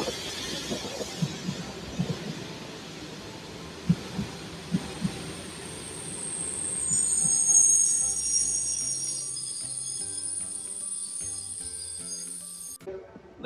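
A TLK Roztocze passenger train hauled by an EU07 electric locomotive pulls into a station on its run from Bohumín to Lublin Główny: low rolling rumble with a few dull thumps, then a sustained high brake squeal that swells and stops near the end.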